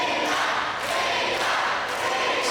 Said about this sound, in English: you can hear very clearly which side the crowd is on as they chant away at Viva's name